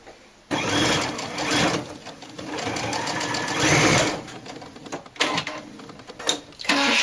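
A sewing machine stitches a doll pants seam closed with a steady, close mechanical whir that pauses and restarts several times in short bursts.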